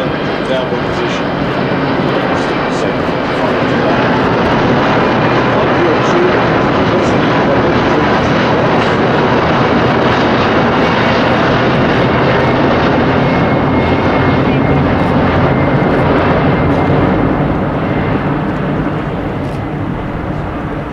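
Airbus A380 airliner flying past at the Farnborough Airshow 2014, a loud, steady broadband engine roar sustained throughout with crowd talk faintly underneath.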